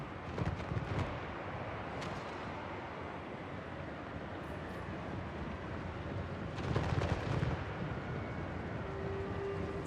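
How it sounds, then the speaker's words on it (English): A gyro bomber's bombing run in Total War: Warhammer III with a dwarf army: a dense, continuous rumble of explosions that swells louder in places, with no clear gaps. "There's some magnificent bombing there going on there."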